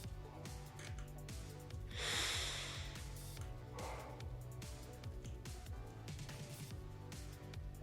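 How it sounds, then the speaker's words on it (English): Deep breaths drawn during a beginners' ankle and foot exercise session, two soft breathy rushes standing out over steady background music. "nice deep breath"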